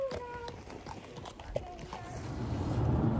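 A horse's hooves clip-clop in a loose, uneven rhythm at a photoshoot outdoors, fairly near and moderate in volume, with a person's voice and rising wind or handling noise toward the end.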